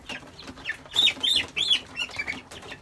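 Leghorn hens cluck and squawk in short, irregular bursts nearby, with a few louder sharp calls.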